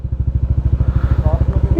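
A stock motorcycle engine chugs in a fast, even, thumping rhythm close by, cranking without catching, while people talk briefly over it.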